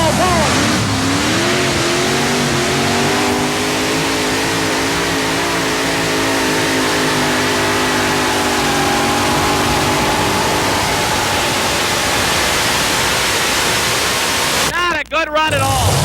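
A modified dragster-class pulling tractor in the 9,200-pound class roars continuously during a pull at a tractor pulling event, loud and sustained with shifting engine pitch, while an announcer talks over it.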